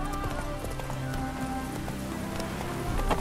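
Roach, Geralt's horse in The Witcher 3, gallops with steady rhythmic hoof clip-clops over continuous game ambience, close and moderately loud, with no speech.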